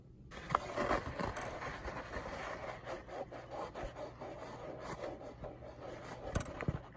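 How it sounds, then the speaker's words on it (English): Steady rubbing and scrubbing to lift sticky residue with isopropyl rubbing alcohol, giving a close, continuous rasping friction with small irregular strokes. "I need to use rubbing alcohol to get the residue off"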